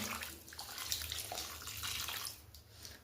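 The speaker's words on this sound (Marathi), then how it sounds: "तर इथं माझ्याकडे गरम पाणी आहे ते मी ॲड करून घेते याच्यात या पद्धतीने." Hot water pours into a pan of matar paneer gravy, a steady close gushing splash with bubbling that eases off toward the end, no talking.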